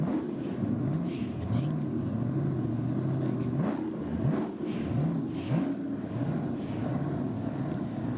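A blown race engine at a 2023 Kenda 660 event revs repeatedly from some distance, with rising engine sweeps over steady wind noise.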